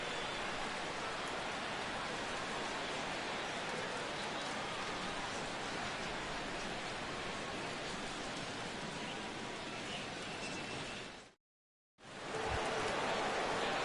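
Steady rain falls over a ballpark in the MLB 16 The Show baseball video game, a dense even hiss of drops that cuts out briefly near the end and then resumes.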